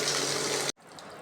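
Water gushing steadily from the outlet of a bore pump, a loud continuous rush close by that cuts off abruptly partway through, leaving only quiet background.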